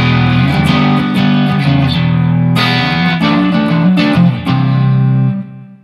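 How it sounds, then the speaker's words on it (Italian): Electric guitar playing a riff through a Sunface fuzz pedal set for clean-up with the guitar volume at 8: loud, thick saturated chords and bends sounding alone, ringing out and fading at the end. "Questo è il suono del Sunface"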